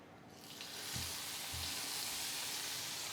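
Hot oil tempering with Kashmiri chili powder and kasuri methi poured onto chicken kadhi, a loud sudden hiss that swells into a dense, steady sizzle, with a couple of low stirring knocks near the start.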